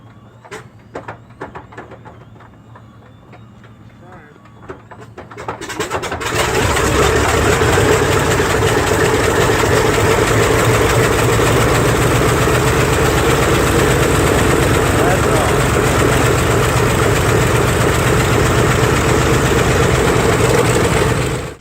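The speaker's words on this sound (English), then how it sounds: "let's have a listen to a real DC6 engine starting with the same clip" A real Douglas DC-6 piston aircraft engine cranks with a few sputtering pops, then catches after about six seconds and settles into a loud, steady, low rumbling idle that holds unbroken to the end.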